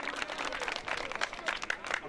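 Crowd applause for the chairman at a large outdoor picnic gathering, steady dense clapping from many hands lasting a couple of seconds, fairly distant and even.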